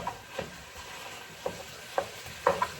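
Taco meat sizzles and bubbles in a pan with steady frying hiss, broken by several distinct pops and spoon stirs spaced across the moment.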